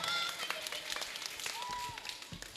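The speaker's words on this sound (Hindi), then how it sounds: "मुख्य वेदी में 3 ताली बजा के इनका सम्मान करें" An audience at a Delhi religious gathering claps to honour a pandit, a soft, scattered patter of applause in a hall with a faint voice over it.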